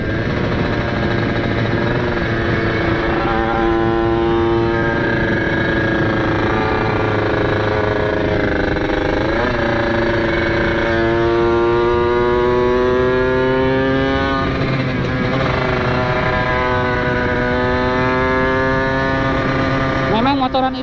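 A buzzy two-stroke motorcycle engine drones loudly and continuously, its pitch climbing through repeated rising sweeps as it accelerates up through the gears.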